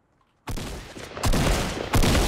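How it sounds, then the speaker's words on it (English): Shotgun blasts in Fortnite, three loud close booming shots spaced about half to three-quarters of a second apart, the first breaking a near silence. "A shotgun."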